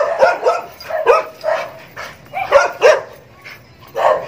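Several dogs bark in loud, close bursts during a jog, a quick irregular run of overlapping barks and yips with no talking.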